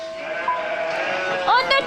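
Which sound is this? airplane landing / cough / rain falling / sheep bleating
sheep bleating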